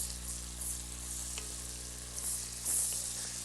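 Chopped onion frying in a pan, a steady close sizzle with occasional scraping as it is stirred, over a low constant hum and without any talking.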